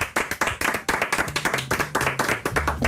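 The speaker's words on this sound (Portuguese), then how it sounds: "É sério que aplaudimos isto?" A small audience claps at a comedy podcast taping, a few distinct hand claps in an uneven, close rhythm, with a voice murmuring underneath.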